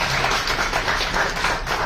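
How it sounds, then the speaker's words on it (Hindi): Applause from an audience at an award ceremony in Udaipur, a steady, dense patter of clapping heard up close for a couple of seconds with no talking over it. "तनुजय सर, इनके लिए एक बार जोरदार ताली।"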